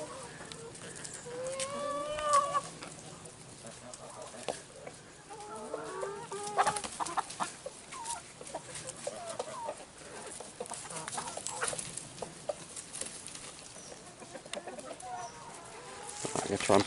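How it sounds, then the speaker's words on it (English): A cockerel crows a few times at a distance amid outdoor farmyard ambience, with clucking fowl and faint voices around. "And you can see just down the end there we got Herculaneum, the cockerel."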